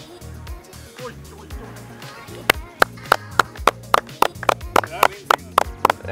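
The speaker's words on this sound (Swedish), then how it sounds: "Ja, det är en applåd efteråt." Spectators at a golf course on Åland clap after a shot, a run of sharp, irregular hand claps that grows more distinct toward the end, layered over people talking close by.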